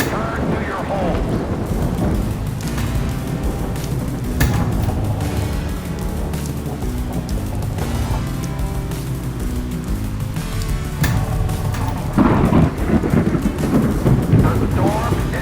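Thunderstorm effect from a Williams Whirlwind pinball machine: steady loud rain hiss with rolling thunder rumbles throughout, a heavier crash near the end, with faint voices in the background.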